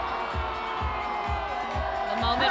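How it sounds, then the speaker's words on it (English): A New Year's Eve crowd at Renaissance Square cheers and roars as one continuous mass of voices, with a regular thumping beat pulsing underneath. "The crowd is going wild."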